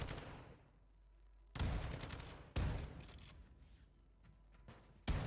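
Gunfire shreds sentries in the video game Heated Madness, three sharp, loud bursts of shots spaced about a second apart, each trailing off into a decaying echo.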